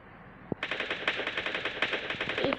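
Rapid automatic gunfire from the mobile battle royale game Free Fire, a loud sustained burst of evenly spaced shots after a single sharp report, with no talking.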